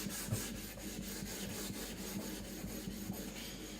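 An Eden Kanso Aogami gyuto knife is sharpened and thinned on a stone, a quiet rhythmic scraping of steel with regular back-and-forth strokes, close up and without speech.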